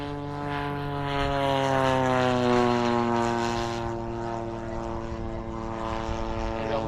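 A radio-controlled Seagull Models P-47 Razorback model airplane flies past with fixed landing gear, its propeller engine a loud steady drone whose pitch slowly falls as it passes, with no talking.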